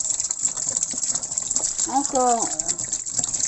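White vinegar poured into a tub of liquid, a steady gushing splash running under a brief spoken French word and a short tonal squeak, with constant high hiss throughout.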